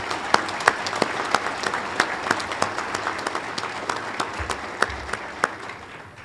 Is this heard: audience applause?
yes